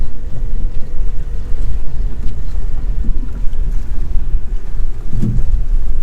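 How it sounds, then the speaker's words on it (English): Strong wind on the open sea during winter reef fishing off Noosa, a steady low roar buffeting the microphone with water and boat noise beneath, no voices. "Sorry about the wind, guys."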